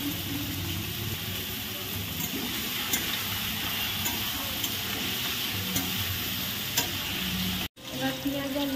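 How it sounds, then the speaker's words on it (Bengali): Potatoes fry with onion and chili in a pan, giving a steady close sizzle with occasional stirring scrapes throughout and a brief dropout near the end; nobody speaks. "এবার পেঁয়াজ আর লঙ্কাটা দিয়ে আজকে করে আলুটা ভাজবো"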